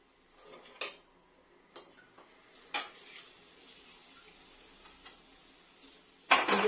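Hot tempering oil goes into a mango ginger chutney, with a few scattered clinks of a spoon against the pot and then a sudden loud sizzling burst at the very end.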